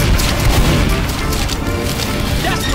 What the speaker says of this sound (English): Is this soldier trying to kill me with the rocket jumper?